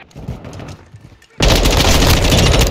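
Sustained, loud automatic gunfire from Call of Duty Modern Warfare 2 multiplayer breaks in abruptly after a quieter stretch of distant shots and chatter, continuing as a dense, unbroken burst to the end.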